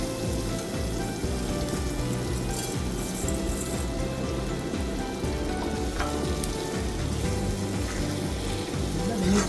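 Sprouted mung beans sizzle and fry in a hot pan with spices, a dense continuous crackle close up, with light stirring and no voice.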